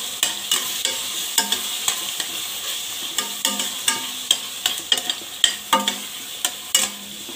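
Green chilies and ginger-garlic paste stirred in a hot pan for mutton biryani, a spoon scraping in a steady run of sharp, close strokes over a soft sizzle, with no voices.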